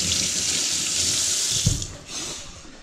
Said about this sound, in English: So I'm just going to give it a rinse.